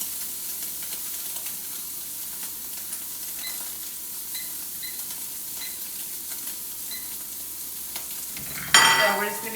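Food searing in a pan gives a steady, even sizzle and hiss, with a few faint clicks, then a sudden louder burst of spattering near the end. No voices are heard.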